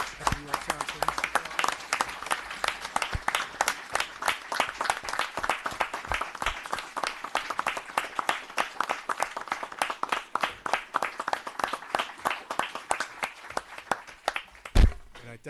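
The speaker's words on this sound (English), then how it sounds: "So if I can get a nice round of applause for you officers" A room at a town board meeting gives a long round of applause to officers of the Yorktown Police Department: dense, steady clapping from a sizable crowd that thins out near the end.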